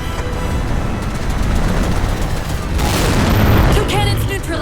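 Cannons explode in Halo 4 with heavy rumbling booms and crackling blasts, loud and close, swelling into a larger roaring detonation partway through amid ongoing battle noise.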